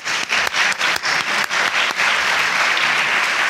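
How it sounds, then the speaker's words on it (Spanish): An audience in a conference auditorium gives warm, sustained applause for Doctor Toro, the claps dense and even, building quickly and continuing to the end. "Un aplauso, por favor, para el doctor Toro"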